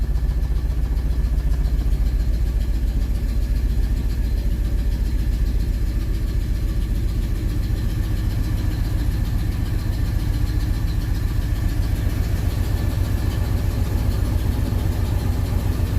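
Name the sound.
1968 Oldsmobile 442 engine idling after a cold start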